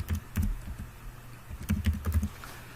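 Keys clatter on a computer keyboard as office furniture and equipment details are entered, two quick bursts of close, crisp typing separated by a short pause.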